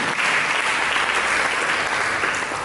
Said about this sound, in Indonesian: Mari kita berikan tepuk tangan kepada Tuhan.